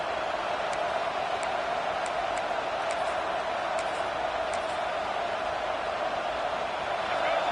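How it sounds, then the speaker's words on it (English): A loud football stadium crowd at an LSU game roaring during a fourth-down defensive stand, a dense, constant wall of cheering noise that holds steady throughout with faint ticking on top. "This crowd busting the decibel meter and trying to will a 4th down stop."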